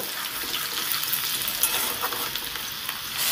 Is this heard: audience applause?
no